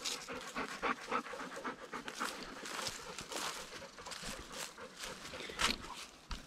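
Dogs pant quickly and heavily close by, with shuffling steps and rustling outdoors.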